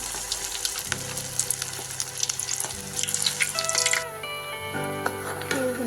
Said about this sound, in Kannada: ಎಣ್ಣೆ ಕಾದಿದೆ. ಲೋ ಫ್ಲೇಮಲ್ಲಿ ಇಟ್ಕೊಂಡು ಹಾಕ್ಕೊಳ್ಳಿ.